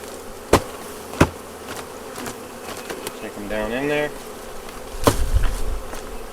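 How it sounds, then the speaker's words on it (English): Honey bees buzz steadily while being shaken into a nuc box, with a few sharp knocks and bumps of the box and a brief rising mechanical whine partway through; a voice speaks briefly. "Let's get the rest of these bees in there."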